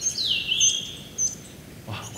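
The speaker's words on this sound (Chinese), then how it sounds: "哇，我听到这么美的鸟叫声" Wild birds sing in the early morning at a mountain campsite at Taipingshan, Taiwan: a clear rising-and-falling whistled call, then shorter chirps and a faint call near the end, over quiet forest ambience.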